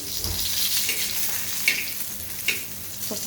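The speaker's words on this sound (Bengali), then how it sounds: "এসে দুটো সসের চট দিয়ে ভেজে নিচ্ছি" Two sausages fry in a pan late at night, a quiet steady sizzle with occasional utensil scrapes and a couple of sharp clinks, heard close up with no talking.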